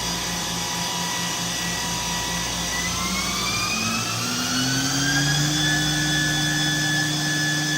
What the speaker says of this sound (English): Spindle is currently running at 2500.